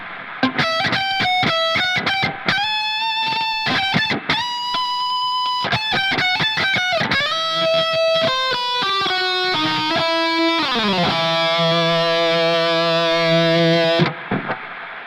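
Electric guitar played through a Bias FX 2 Pro metal preset with reverb, kept fairly clean: quick, choppy riffs and picked notes in steady bursts, then a long ringing chord that cuts off sharply, with no talking.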